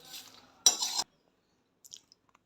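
Roasted sesame chutney ingredients being moved onto another plate: a short metallic scrape and rattle of dishes, then silence and a few faint light clinks.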